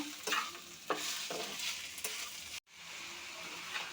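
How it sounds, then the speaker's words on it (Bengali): Pieces of bottle gourd are stirred in a frying pan with ginger paste, a steady close sizzle punctuated by scraping stirs, with a brief silent break before the frying resumes. "লাউটা আস্তে আস্তে নেড়ে নিচ্ছি।"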